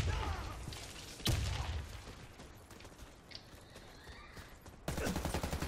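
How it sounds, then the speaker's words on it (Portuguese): Gunfire in a stairwell shootout in the online shooter Warface, sharp shots and bursts mixed with clanking game mechanism sounds, moderately quiet, with a rapid burst of fire near the end. "Tiroteio na escada aí"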